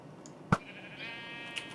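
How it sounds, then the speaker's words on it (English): A single short sheep bleat from Minecraft, clear and fairly faint, over a quiet ambient background with a light trailing tone. "There's a white sheep in there."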